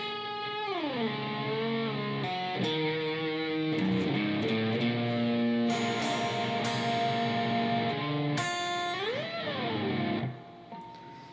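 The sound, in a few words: electric guitar playing solo part, slow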